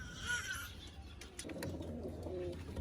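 Cooing from domestic pigeons in a loft where pairs sit on eggs, low murmuring calls repeating through a steady noisy background, near and moderately loud, with no voices.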